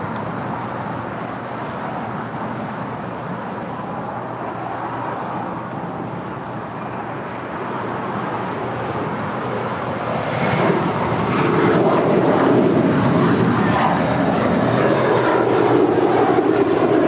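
An Airbus A321 jet airliner landing at LAX gives a broad, steady engine roar that swells louder toward the end, heard from nearby with no talk.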